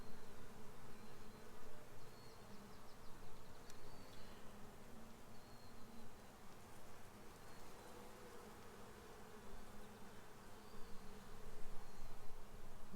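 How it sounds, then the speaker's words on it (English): A dense, continuous hum of many honeybees buzzing close by at an open hive during an inspection, with no voices. "So just be careful with all your little bees."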